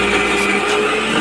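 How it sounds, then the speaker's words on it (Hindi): A mixer grinder whirs loudly and steadily while grinding cooled ingredients for dum aloo into a fine paste, a continuous motorized grinding drone filling the short moment. "अब मैं इसे मिक्सी में डाल के ग्राइंड कर"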